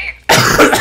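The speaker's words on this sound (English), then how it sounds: "The coughing at the end is almost the best part." Coughing from a played donation sound clip bursts out abruptly after a brief quiet moment, a loud, close, rough cough filling the rest of the short clip.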